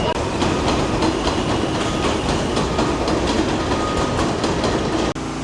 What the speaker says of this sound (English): Let's go back on the train back to Manhattan.